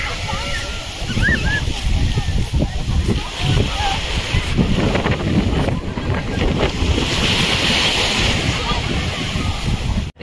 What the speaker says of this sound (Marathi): इथं आली पहिली बोट.